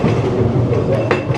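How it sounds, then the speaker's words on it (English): A Ghost Train ride car at Blackpool Pleasure Beach rumbles along its rails as it sets off, giving a steady, loud, close rolling clatter with no talking. "And we're off in the legendary Ghost Train."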